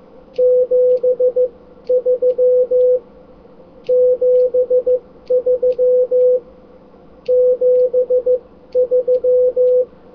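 Steady Morse code sidetone beeping in groups of dits and dahs, the characters seven and three alternating with short pauses, clear and alone.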